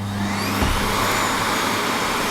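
A Miele C1 vacuum cleaner switches on with a low hum and a short burst at startup, then runs as a steady, loud broadband whoosh with a faint high whine, close by and alone.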